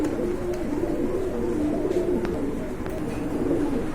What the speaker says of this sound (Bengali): খুবই সুন্দর এক জোড়া শাটিক কবুতর রয়েছে এখানে